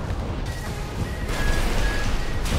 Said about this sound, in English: All the missiles go!